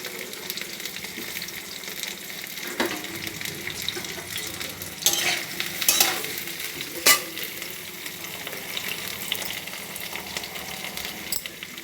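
Beans for a vegetable dal stirred in a frying pan, a steady sizzle under repeated scraping strokes of a spoon, with a few sharper clanks in the middle, no voices.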